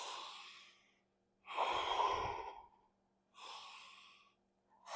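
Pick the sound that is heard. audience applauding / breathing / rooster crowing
breathing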